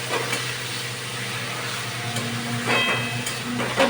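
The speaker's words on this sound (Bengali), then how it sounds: "এটাকে ভালো করে ভাজছি" Grated, boiled and drained papaya frying and being stirred in a pan, a steady close sizzle with scraping stirs throughout, no voices.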